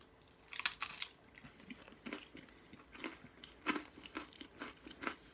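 Someone bites and chews spicy pizza: a run of crisp, crunchy bites and wet chewing comes in close, uneven bursts over about five seconds, with no talk.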